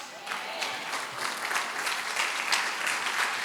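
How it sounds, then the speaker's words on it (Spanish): A church congregation applauds during a sermon, a dense steady patter of many hands clapping that holds at moderate volume throughout, with no talk over it. "O ese aplauso debe sonar más fuerte."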